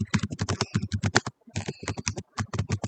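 Computer keyboard typing a passcode question into a Google Form, rapid close clicking keystrokes in two quick runs with a short pause between.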